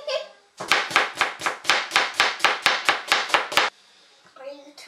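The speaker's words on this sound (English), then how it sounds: "Next we're going to cut up our onion and add it to the peppers." A knife chops an onion on a cutting board while peach salsa is being made: about fourteen quick, evenly spaced, sharp chops close up, followed by a brief pause and a little faint background noise.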